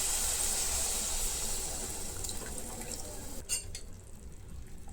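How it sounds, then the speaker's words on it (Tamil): Tamarind water pours steadily into a pan of mutton kofta curry with a bright, continuous splashing hiss that cuts off partway, followed by a few soft clinks and drips. "இப்போ இது கூட நம்ம கரைச்சி வச்சுருக்க புளி தண்ணியை சேர்த்துக்கலாம்."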